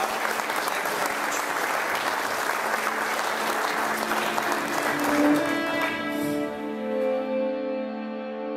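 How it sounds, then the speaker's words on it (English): Audience applause at a speech event, a dense, steady clapping from a crowd that carries on loudly and then thins and fades toward the end as a low hum remains. "let's just give him a round of a hand of applause for setting this up"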